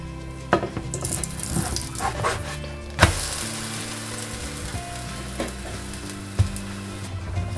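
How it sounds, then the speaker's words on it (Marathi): Amboli, a rice-and-lentil pancake, sizzles in oil on a hot pan with steady frying crackle, a few sharp clicks and knocks as it is turned, no voices. "आपण आता वरून थोडंसं तेल लावून ती टर्न करून घेऊया।"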